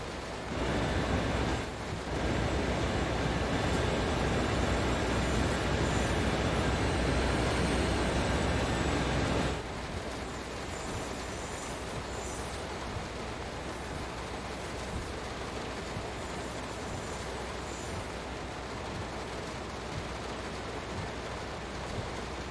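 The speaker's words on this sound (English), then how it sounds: "Yeah, Train ASMR." A train in Train Sim World 3 rolls along with a steady broadband rumble and hiss, louder for the first ten seconds before settling into a softer continuous drone, with no voices.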